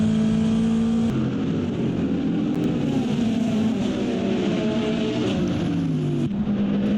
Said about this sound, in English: Here's 17 trying to overtake the number 1